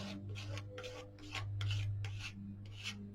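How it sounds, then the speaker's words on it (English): A putty knife scraping paint across scrap wood, heard as a quiet, close series of short rasping strokes, roughly six or seven in a loose rhythm with no talking. "You just get to play with the putty knife"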